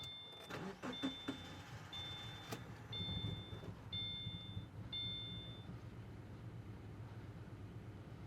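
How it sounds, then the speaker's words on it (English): A Subaru engine cranks in clear flood mode and catches, then settles into a steady low idle, with faint electronic chimes beeping in a regular pattern. "Engine started, we'll let it stabilize in its idle."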